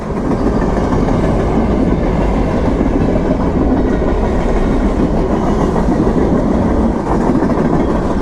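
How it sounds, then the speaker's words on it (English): A loud, steady rumble of a train rolling past close by, with continuous rattling and clacking of cars on the rails and no voices. "I just watch these trains all day long."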